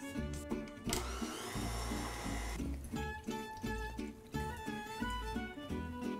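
A stand mixer whirs steadily while butter is beaten into macaron filling, with a loud motor hum, a brief scraping burst near the start and a rhythmic chugging beat that carries through the rest.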